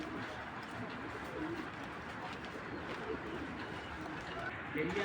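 Racing pigeons of checker, black checker and silver racer kinds coo softly and repeatedly in a loft, with muffled voices faintly in the background.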